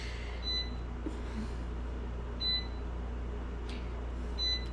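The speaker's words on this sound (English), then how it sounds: "that's an alarm going off over there" An alarm going off somewhere across a garden, heard as short high electronic beeps repeating about every two seconds, faint and distant over a steady low hum.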